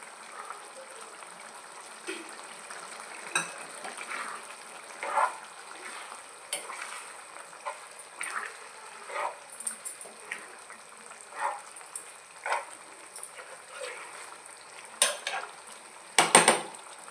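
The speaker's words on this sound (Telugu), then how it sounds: "లైట్గా వేసాను మసాలా ఉడకబెట్టిన గుడ్లు వేసేస్తున్నానండి" Boiled eggs go into a masala curry frying in a pan and get stirred, giving soft sizzling under a series of spoon scrapes and clinks against the pan, fairly quiet and close.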